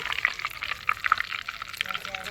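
Hot oil scooped out of a wok after frying catfish for a Thai spicy stir-fry: a steady, soft sizzle with light metallic scrapes and small clinks, and a voice talking faintly in the background.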